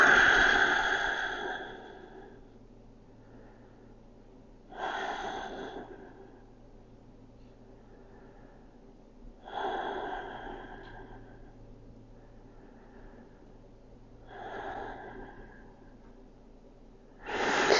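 Slow, deep yoga breaths in extended child's pose come close and clear, with four long airy exhalations spaced several seconds apart over a quiet room hum.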